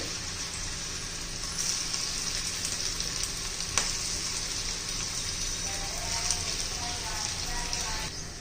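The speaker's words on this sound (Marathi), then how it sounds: "तर हे 5 छान असे आपले तळून घ्यायचे मध्यम गॅसवर" Boiled potato snacks deep-fry in a wide pan of oil over a medium gas flame, a steady close crackling sizzle with faint bubbling that runs throughout, with occasional soft talk.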